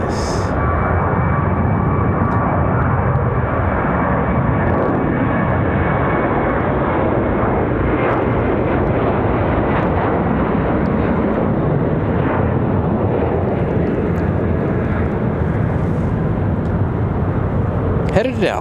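An American Airlines Boeing 737-800 bound for Dallas Fort Worth gives a steady, loud jet roar that holds level throughout, with a voice talking over it.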